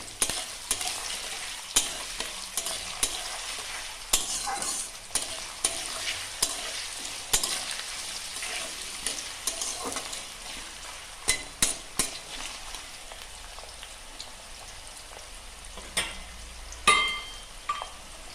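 Two small, thinly sliced potatoes frying in a pan for spicy poha: a continuous soft sizzle runs underneath while a spatula stirs and scrapes the pan in irregular taps and knocks, close and without speech.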